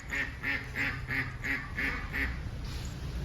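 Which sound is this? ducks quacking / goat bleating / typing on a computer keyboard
ducks quacking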